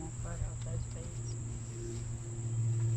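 Bees buzzing around a log hive being rehoused outdoors, a steady swarm drone with a constant high whine and low hum, close and continuous, with faint voices in the background.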